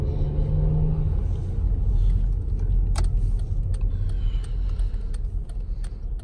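A 2010 Acura RDX with 110k miles creeps through a traffic jam, heard from inside as a steady, loud low road-and-engine rumble with a few light clicks and rattles.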